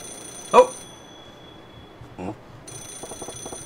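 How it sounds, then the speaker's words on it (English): A payphone rings in the video game Yakuza 0, with brief bursts of a trilling bell and a softer rapid ringing toward the end, fairly faint over quiet game ambience. "Is that a phone ringing? Looks like it's that payphone."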